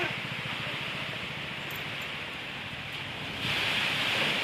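Wind blowing across open farmland in rainy weather, a steady broadband roar buffeting the microphone that swells louder near the end.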